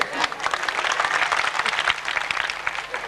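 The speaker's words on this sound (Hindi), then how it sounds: "एक बार ताली बजाएं और फिर शांत हो जाएं" An audience breaks into loud, sustained applause at a stage event, a dense burst of many hands clapping together, with some voices in the crowd.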